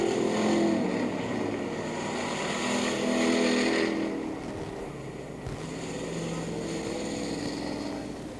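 Street stock race car crossing the finish line at the end of an oval-track race, a steady loud engine roar that swells and fades slightly as it passes, continuous with no voices.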